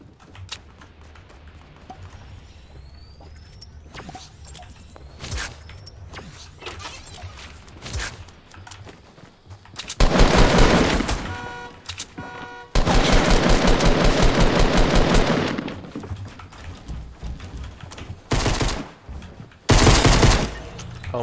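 Sharp gunfire bursts from a Fortnite fight, with scattered single pistol shots early on, then two long loud volleys of rapid firing and a few closing bursts, all up close.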